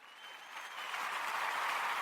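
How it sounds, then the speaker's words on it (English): Applause sound effect dropped into a podcast, a steady wash of many hands clapping that swells slightly and stays fairly close and even for about two seconds. "I think that deserves some applause"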